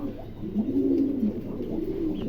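Andalusian king pigeons, a pair of young birds in a loft, coo softly in low, rolling bursts, close and continuous with no talk.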